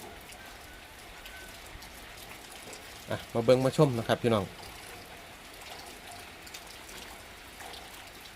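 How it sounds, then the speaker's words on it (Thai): Rain falls steadily during a storm in northeastern Thailand, a constant even wash of drops throughout, with someone briefly speaking over it partway through. "บรรยากาศกะฝนตกนะครับพายุ"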